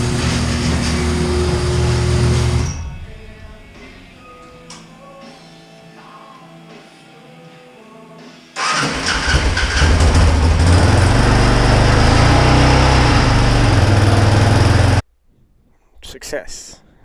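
A Yamaha Raptor 700R ATV engine runs rough and loud up close, stopping and then restarting with an uneven roar that cuts out abruptly near the end.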